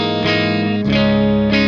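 Electric guitar played through the clean channel of a 2-channel metal preamp, three sustained chords struck in turn and left ringing, loud and close with no talk.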